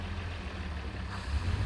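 A 1933 Lagonda M45 prototype car reverses, its low engine rumble steady and close throughout with no talk over it.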